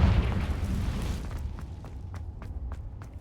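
A Confringo fire spell explodes in the Hogwarts Legacy video game: a dense, loud blast fills the opening second, then fades into a lighter rumble with a run of quick, even taps.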